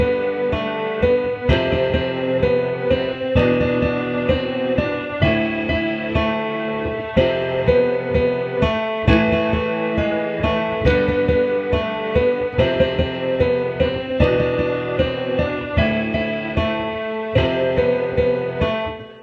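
Solo piano plays a version of the 1954 Gojira theme melody, a steady sequence of full chords and melody notes, close and fairly loud with no talking.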